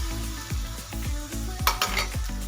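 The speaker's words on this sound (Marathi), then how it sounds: "भाजीला फोडणी देताना आपल्याला गॅस फुल ठेवायचा, तरच आपल्या भाजीला फोडणी बसते।" Vegetable tempering (phodni) sizzles loudly in a pan over a full gas flame while cooking ambat chuka bhaji, with repeated rhythmic stirring scrapes and a few clinks of utensils.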